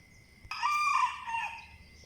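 A rooster crows once, loud and close, a single drawn-out call rising over quiet surroundings.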